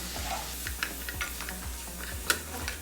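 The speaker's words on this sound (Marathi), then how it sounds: "याला मिक्स करून घ्यायचं आहे आणि दोन मिनटासाठी परतून घ्या" Vegetables sautéing with turmeric, chili powder, coriander powder and garam masala give a light sizzle under rhythmic spoon scrapes and taps against the pan, close-up, several strokes in steady succession, no talking.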